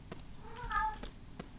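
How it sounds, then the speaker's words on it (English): A house cat yowling at a door, a single drawn-out meow at close range and fairly quiet, with a few soft knocks or taps before and after. "My cat is now yelling because the door's not even closed."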